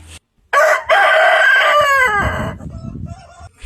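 A rooster crows loudly and close by, one long drawn-out call that trails off, followed by some quieter clucking.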